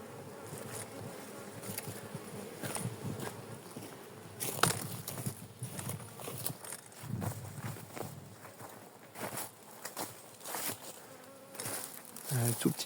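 A large honeybee swarm buzzes near a hive, a dense hum of many wings at fairly low level, with some rustling and movement sounds close by.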